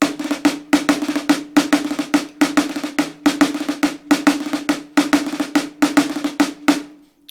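Snare drum repeating a short one-beat rudimental march phrase over and over in a steady, even rhythm, crisp and close, with bright accented strokes and no other sound.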